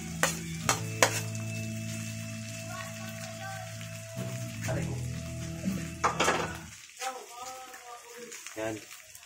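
Leftover cooked dish tipped into a pan of softened onions and frying, a steady sizzle with scraping stirs and clinks under a person talking.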